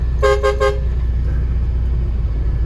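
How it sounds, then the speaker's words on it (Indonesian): A vehicle horn gives three quick, loud toots before reversing, followed by a low steady engine rumble. "Jangan lupa klakson 3 kali kalau mundur."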